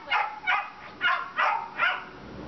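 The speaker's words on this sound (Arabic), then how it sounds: "هلا هو عم بيقوي شوي" A dog shut in a crate barks in five sharp, evenly spaced bursts at close range, with no voices over it.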